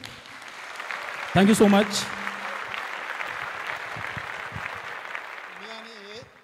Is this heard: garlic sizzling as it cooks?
no